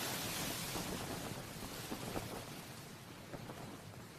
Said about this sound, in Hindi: बहुत ही तेज हवा है।